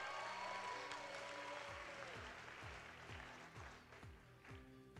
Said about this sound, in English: let's give one more round of applause to all our top 6 of Taipei